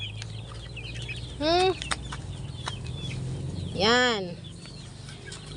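Two loud rising-and-falling squawks from chickens at feeding time, close by, over a low background hum, with a brief spoken word in between.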